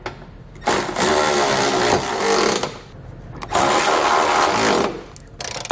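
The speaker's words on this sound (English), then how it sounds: "We can then go back and tighten down our hardware." A power tool tightens trailer hitch hardware under a 2015 Jeep Grand Cherokee in two long, loud bursts of whirring, each about two seconds long, with a short third burst at the end.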